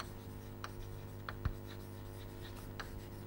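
Chalk or marker scratches across a board in a quiet lecture room, a few short, separate strokes over a low steady hum, without talking.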